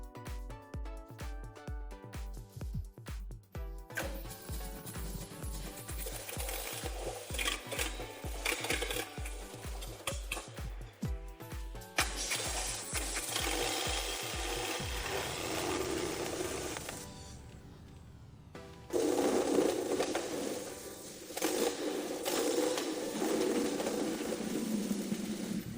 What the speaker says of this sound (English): Yes, engine started. Runs great.